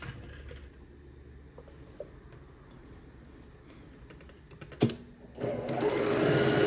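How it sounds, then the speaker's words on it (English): Sewing machine stitching pre-cut cotton fabric into a large tote bag, heard close as quiet mechanical ticking and a few clacks before the motor whirs up into a loud, steady stitching run near the end. "now I'm gonna go to the machine and sew all the way around except leaving a section in the middle"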